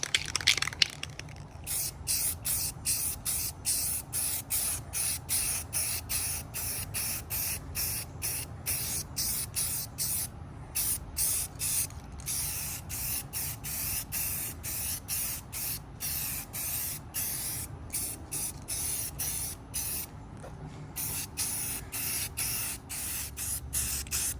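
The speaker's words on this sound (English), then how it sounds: "So trick is just to get a nice little even coat of paint on these things." Spray paint hissing onto metal shelf brackets in steady continuous bursts with brief pauses, close and fairly loud, with no speech.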